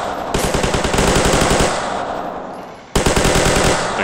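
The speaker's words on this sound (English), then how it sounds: "got an invisible guy shooting at me" Rapid automatic gunfire in GTA IV with the LCPDFR police mod, loud close bursts of shots fired in quick succession, broken by a short pause before another burst resumes.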